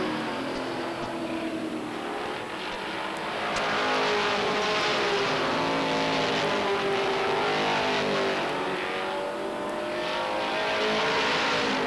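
Stock race cars howl around Beech Ridge Motor Speedway on the final lap, a dense, loud, continuous engine roar that swells as the pack passes, with no speech heard.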